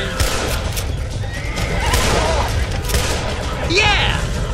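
Horses neighing in the Western video game Red Dead Redemption, a whinny rising sharply near the end over clip-clopping hooves, bursts of gunfire and busy game background.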